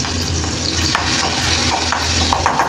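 Garlic sizzling and frying in hot ghee for a Maharashtrian tomato soup, a steady close crackle with occasional stirring clinks, no voices.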